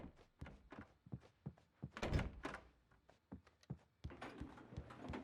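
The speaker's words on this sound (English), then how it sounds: "We locked the door behind him." Door shut with a heavy thunk in the game Alan Wake, followed by scattered clunks and knocks as it is locked, close and fairly loud.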